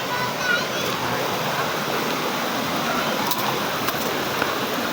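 Mahogany Falls in Dingalan, Aurora, pours in a steady, broad rush of falling water. The roar stays close and loud the whole time with no pauses.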